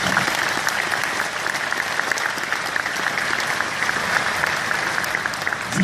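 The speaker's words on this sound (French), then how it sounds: "en présence du père Ghislain Ménéguer, que vous pouvez applaudir" An audience applauds at an Easter mass held in the Arlette Gruss circus tent in Dunkerque, a dense, steady wash of many hands clapping at once that keeps an even level throughout.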